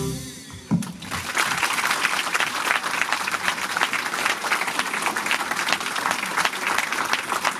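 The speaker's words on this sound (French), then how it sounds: "alors on l'applaudit pour sa sortie, parce qu'il le mérite" An audience at a Valentine's Day matinee concert breaks into sustained applause as a singer leaves the stage, dense steady clapping from a large crowd that swells after a brief onset and continues evenly.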